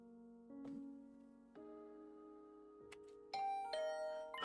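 A doorbell sounds in the video game The Hundred Line Last Defense Academy as a short series of clear, sustained chime tones stepping upward, soft at first and ringing louder and brighter toward the end.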